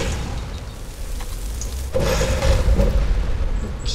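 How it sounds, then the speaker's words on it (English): A fiery Infernal Blast explosion spell in Skyrim gives a loud booming burst that swells abruptly halfway through and rumbles on, with a softer crackling roar before it. "you've got Infernal Blast, a massive fiery explosion to six."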